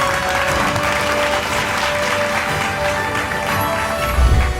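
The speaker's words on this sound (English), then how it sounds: "A massive round of applause for everyone who has contributed to the success of this" An audience at a journal inauguration ceremony breaks into a sustained round of applause, dense and continuous, with a low thump near the end.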